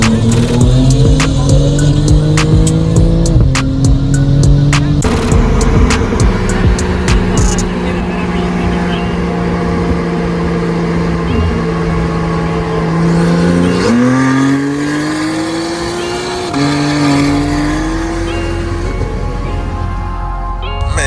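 A tuned 992 Porsche 911 Carrera T accelerates hard, its engine climbing in pitch through several quick gear changes, loud and close throughout, with brief voices from the cabin.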